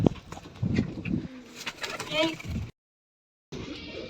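Pigeons coo in low, throaty rolling calls close by, a few bursts overlapping, with a brief silent gap before the sound resumes.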